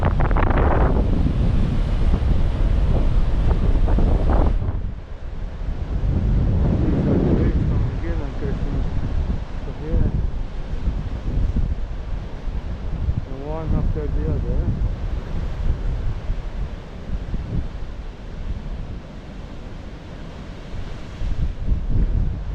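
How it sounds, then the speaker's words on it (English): Strong storm wind buffeting the microphone with crashing sea waves on the rocky coast near Zonqor Point, Malta, a loud continuous roar throughout with a voice heard faintly. "The more I go around here, to Zonqor Point, the more powerful the wind is"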